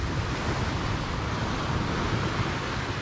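Pacific Ocean surf washing onto a rocky fishing shore, a steady broadband wash with no clear breaks, close and loud, with wind noise on the microphone.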